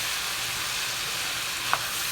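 Bolognese ingredients sauteing together in a pot, a steady, dense sizzle that stays even and fairly loud throughout, with one brief faint knock near the end and no voices.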